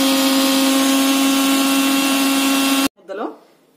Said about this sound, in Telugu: చింతకాయ ముక్కల్ని మిక్సీ చేస్తున్నాను